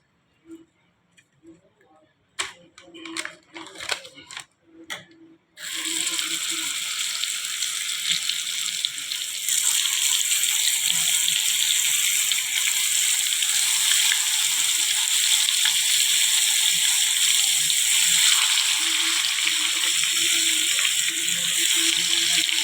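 Small fish frying in a pan of hot oil over a medium flame, a steady broad sizzle that rises sharply after a few clicks and clatters, then holds loud and continuous to the end.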